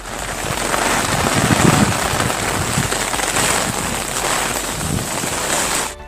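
A dense, steady hiss of heavy rain pours without letup, broad and loud, with a slight gusty roar underneath.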